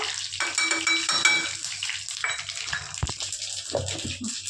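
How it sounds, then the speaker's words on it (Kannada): Mustard seeds and curry leaves crackle and sizzle in hot oil during tempering for coconut chutney, a steady close frying hiss with scattered pops and some clatter of a pan, no voices. "ಒಗ್ಗರಣೆ ಮಾಡಿದಾಗ ಸಾಸಿವೆ ಮತ್ತು ಕರಿಬೇವು ಚಟ್ಪಟ ಅಂತ ಸಿಡಿಬೇಕು"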